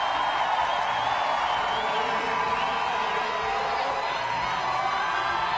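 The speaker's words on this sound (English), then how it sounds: "The crowd trying to bring Samantha Briggs home." A large crowd at the 2016 CrossFit Games cheers and roars steadily as an athlete nears the finish line. The sound is a dense, sustained wash of voices with a broadcaster talking faintly over it.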